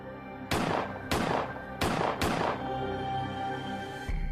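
Four sharp gunshots as a documentary sound effect, two quick pairs of loud cracks with ringing decay and a low rumbling tail after the last, with no speech.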